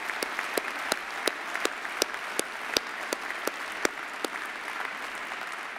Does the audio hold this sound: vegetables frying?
no